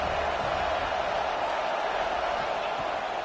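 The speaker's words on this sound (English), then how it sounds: "High crowd, rolling noise down on the Saban field on third down." Stadium crowd at a college football game, Alabama against Syracuse, on a third down: a loud, steady roar of many voices filling the stands, sustained without a break.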